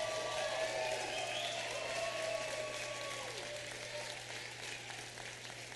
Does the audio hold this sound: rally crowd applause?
yes